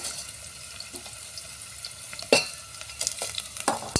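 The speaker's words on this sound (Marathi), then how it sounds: "आता तेलामध्ये कांदे शिजले त्यामध्ये आपण मिरची टाकून घेऊ" Chilies dropped into onions cooking in oil over a wood-fired stove, giving a soft steady sizzle with a few sharp clinks and stirring scrapes near the end.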